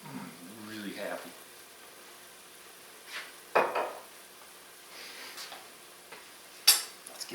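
Mushrooms with soy sauce for a holiday green bean casserole are stirred in a pan, giving soft, scattered scrapes and a couple of sharper clatters over a faint sizzle, with a little speech at the start.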